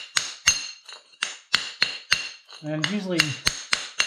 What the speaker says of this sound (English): a big wide flat chisel is really all you need to break those guys loose